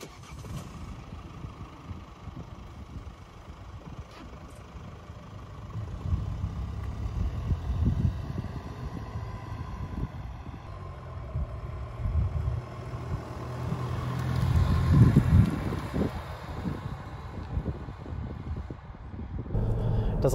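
A Mercedes-Benz Vito Tourer 119 CDI 4x4 van driving on the road, heard as a low, continuous engine and road drone from inside the cabin that swells gently as it accelerates, with no talking over it.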